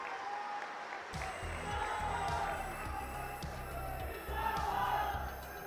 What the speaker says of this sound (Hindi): एक बार जोरदार तालियों से हम उनका स्वागत करते हैं।